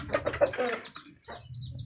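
Aseel chickens on a farm cluck and call in short, close bursts, a few overlapping fowl voices that fade toward a quieter stretch with a brief final cluck.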